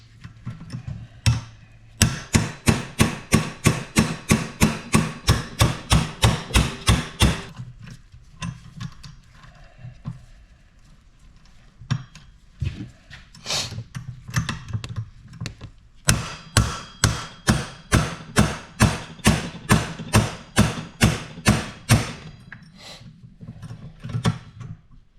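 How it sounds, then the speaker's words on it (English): Close, loud metallic banging knocks a pool pump bearing off its shaft in two long bursts of rapid, rhythmic hammer blows, with a quieter pause of scattered taps between them. "redneck engineer in there to hold it so I can bang it the rest of the way off."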